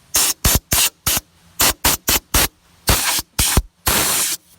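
Rust-proofing spray fires through a nozzle into a car body seam in a series of short hissing bursts, about ten sharp close blasts with a few longer ones near the end.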